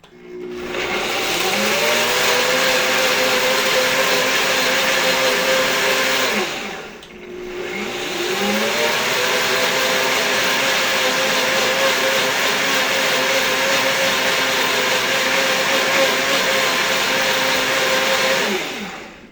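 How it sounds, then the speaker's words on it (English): Blender on a kitchen counter pureeing asparagus soup made with heavy cream and Parmesan cheese, a loud steady motor whir that runs alone for about seven seconds, dips briefly, then restarts and holds for another twelve. "And then I'm going to puree this."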